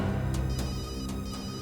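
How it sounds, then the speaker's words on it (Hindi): A phone rings with short, repeated electronic chirps, heard faintly over a steady low hum. "कब से फोन बज रहा है, उठा लो।"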